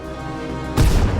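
A tank gun firing in World of Tanks, a single sudden loud boom that bursts in after a short stretch of steady engine hum and rumbles on briefly.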